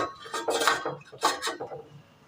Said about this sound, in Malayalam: ഇതിന് മുകളിലായിട്ട് നമുക്ക് ഇഡ്ഡലി പാത്രത്തിൻ്റെ തട്ട് വെച്ച് കൊടുക്കാം